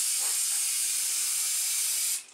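An aerosol spray can releases one sustained, hissing burst in a fan pattern, a close, even high-pitched spray that holds steady for about two seconds and then cuts off.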